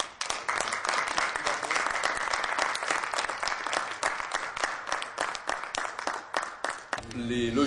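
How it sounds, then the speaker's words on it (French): An audience at a 2008 multimedia fair breaks into sustained applause, many hands clapping densely and evenly for several seconds before it abruptly stops, followed by a brief stretch of other sound. "Sur proposition de Claude, je vous propose de faire un applaudissement."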